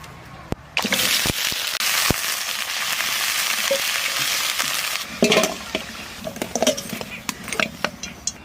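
Tender young jackfruit frying in a pan with goat fat, a steady dense sizzle with sharp clinks and stirring knocks of a utensil scattered throughout, louder bursts near the end.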